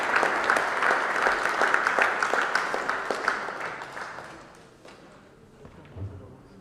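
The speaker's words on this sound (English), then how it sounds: "Let's give a big round of applause as we invite Salma to the stage" An audience at a humanist conference in Melbourne claps warmly for a few seconds, the applause thinning and fading out toward the end.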